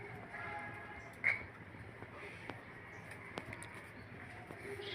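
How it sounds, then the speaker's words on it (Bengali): Pigeons coo softly among other birds in a loft where they are let loose, with a sharp flap or click near the start and faint background noise throughout. "এই যে কবুতরগুলো ছেড়ে দেওয়া আছে,"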